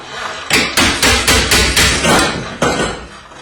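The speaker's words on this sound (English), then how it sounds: "Sometimes a little persuasion helps, the hammer." A steel hammer strikes a garage door torsion spring shaft during a spring repair, giving about eight loud, close metallic blows in a steady rhythm, each one ringing briefly before the next.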